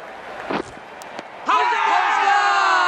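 A crowd at a West Indies vs Zimbabwe cricket Test match breaks into loud cheering and whooping partway through, after a few sharp knocks, with commentary voices audible throughout.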